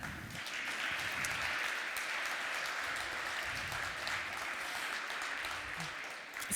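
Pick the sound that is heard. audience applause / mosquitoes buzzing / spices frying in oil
audience applause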